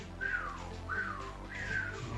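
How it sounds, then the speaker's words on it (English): A person whistles three descending swooping notes in an even rhythm, faint and close, over a quiet room tone during a kickboxing training session. "That was terrible whistling."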